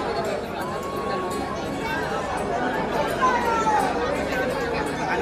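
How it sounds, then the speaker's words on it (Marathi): Dense crowd chatter fills a temple darshan queue at Trimbakeshwar, a steady babble of many nearby voices with no single speaker standing out, holding an even level throughout. "तुम्ही बघू शकतो मला मागे आजूबाजूला वगैरे भरपूर गर्दी आहे"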